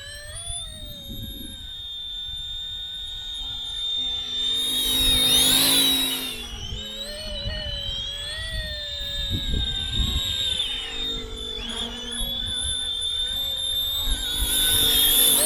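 An RC ERA C190 model helicopter in flight, a steady high-pitched rotor and motor whine that rises and falls as it passes, with a rushing swell midway and faint wind noise throughout.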